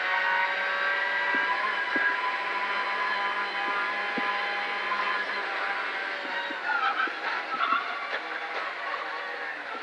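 Subaru S14 rally car driving a stage at the Abbeyleix Manor Hotel Stages Rally, its engine a steady, loud roar that holds high throughout with small rises and dips in pitch as it runs through the stage.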